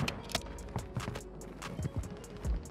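Enemy footsteps on the floor below in Warzone 2, a run of quick muffled thuds in an irregular rhythm, fairly faint and with no speech over them.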